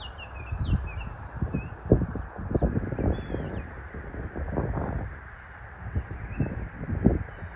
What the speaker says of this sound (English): horses are getting closer